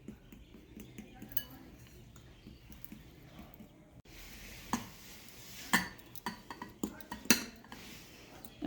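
Spoon scraping and clinking against a bowl while folding flour and baking powder into cake batter, soft irregular taps and scrapes that grow louder and sharper in the second half, close and fairly quiet.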